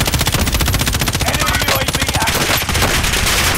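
Rapid automatic gunfire from Call of Duty: Warzone rattles in a fast, continuous stream of loud shots with barely a pause, close and dominant throughout.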